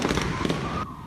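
An electrical transformer box outside a shop in Tainan catches fire and explodes, giving a dense run of loud, crackling bursts that cuts off abruptly near the end.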